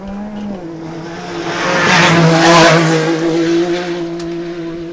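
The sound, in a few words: UTV race car passing during off-road race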